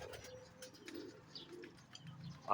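Blue bar pigeons cooing softly in a loft, low murmuring coos repeating at a moderate distance with faint chirps and rustling, ending in a louder burst close by.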